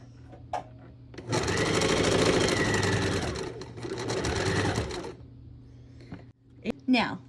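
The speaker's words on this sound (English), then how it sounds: "Next, we'll sew this square on top of this one" A sewing machine stitches fabric squares together in two close, rapid bursts of steady mechanical whirring separated by a brief pause, with a voice speaking quietly before and after.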